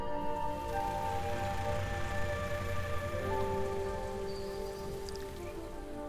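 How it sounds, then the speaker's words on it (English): Steady rain falling over the Tongbai Mountains during the rainy season south of the Yangtze River, a continuous even hiss with a low rumble beneath and no voices. "When the clouds rise, rain will quickly follow."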